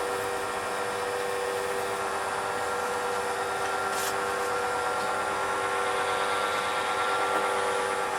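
Sandpaper sheets rub continuously over a turned pen blank, giving a steady, even hiss of abrasion that stays constant from start to finish with no talking.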